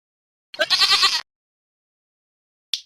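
A goat bleats once in a single wavering, fairly loud cry lasting under a second, followed by silence and a brief faint click near the end.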